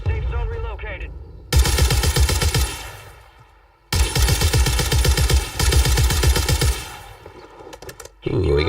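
Sniper gunfire in a video game sounds as two long, loud bursts of rapid, cracking shots separated by a short lull, with game sounds and some voice underneath.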